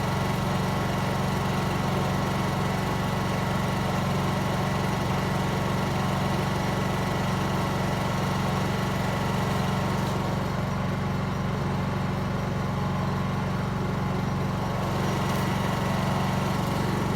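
A Honda EU2200i inverter generator runs on a 1 lb propane bottle, giving a steady, continuous engine hum that holds level throughout with no pauses and no talking.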